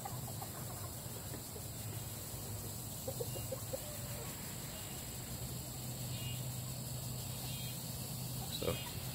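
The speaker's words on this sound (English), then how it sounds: "That's the main rooster right there." Chickens and roosters in a yard, soft clucks and occasional crowing calls scattered over a steady outdoor hum, fairly distant, with insects buzzing in the background.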